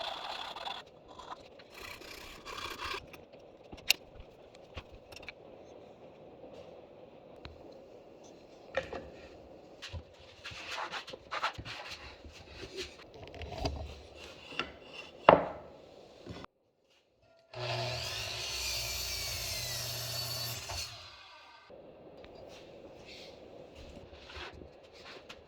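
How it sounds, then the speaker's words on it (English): Scattered scraping and rasping strokes of a file on wood, shaping a drilled hole hexagonal, irregular and fairly quiet, with a brief silence followed by a louder steady rushing burst. "I drill a big hole and file out the sides until it's hexagonally shaped"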